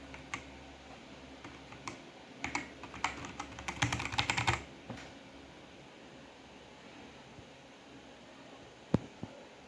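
Keys clack on a Machenike K500A-B84 mechanical keyboard in a quick close burst of typing lasting about two seconds, followed by quiet and one lone click near the end.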